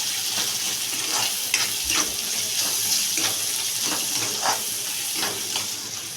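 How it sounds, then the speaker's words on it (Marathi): Greens sautéing in oil with salt as they are stirred, giving a steady sizzling hiss with repeated soft scraping strokes of a spoon throughout, close and fairly loud, no talking. "चवीनुसार मीठ हे सगळं छान असं व्यवस्थित मिक्स करून घ्यायचं आहे तेलात परतून घ्यायचं सगळं व्यवस्थित"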